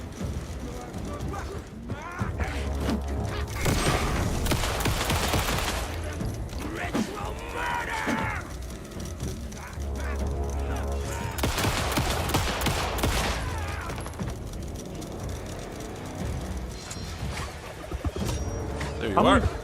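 Rapid bursts of gunfire in the horror video game Alan Wake 2, loud and close, coming in two heavy stretches over a steady game soundscape, with a voice talking over parts of it.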